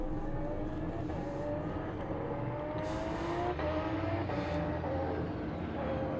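Nissan GT-R race car at an Australian roll racing event, a steady engine drone with harmonic tones rising across the clip, mid-distance and fairly loud amid continuous crowd and track noise, no speech.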